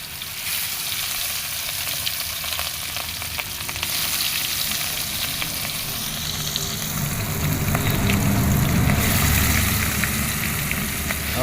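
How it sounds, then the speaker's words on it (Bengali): Sliced ingredients for a radish and rohu fish dish fry in hot oil in a pan, giving a dense, steady sizzle that grows louder and rougher toward the end, with occasional stirring. "এগুলো ভাজি করে নিচ্ছি।"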